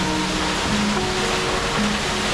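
Perrine Coulee Falls in southern Idaho pours down in a loud, unbroken roar of falling water that stays steady throughout, close and with no pauses.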